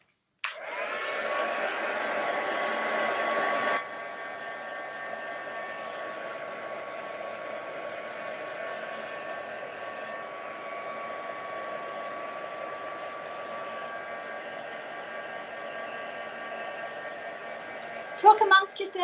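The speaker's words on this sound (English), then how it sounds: "I need my heat tool again." Heat tool blowing hot air over watercolour card, a loud steady whoosh that cuts out after a few seconds, leaving a quieter hum with a brief clatter near the end.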